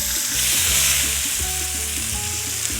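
Orange zest dropped into hot oil, a loud close sizzle and bubbling that holds steady throughout with no talk.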